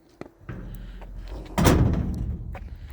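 A door in a snowy village house pulled shut with a solid thump, preceded by a brief click and followed by rumbling room noise, alone without talk.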